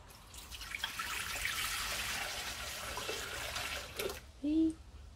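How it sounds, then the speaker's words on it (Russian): Water is poured into a Thermomix TM5 mixing bowl in a steady, close splashing stream lasting several seconds, followed by a brief knock. "Наливаем 500 миллиграмм воды."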